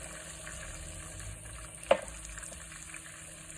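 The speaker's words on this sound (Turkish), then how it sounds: "Hemen bir su bardağı sıcak su ekliyorum." Hot water goes into a pan of lamb shank cooking over steady frying sizzle, with one short, sharper hiss burst partway through; no voices.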